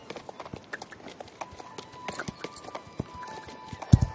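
Hooves clip-clop in a quick, even rhythm as a horse moves in the Star Stable Online game, with faint background music and a brief louder thump near the end.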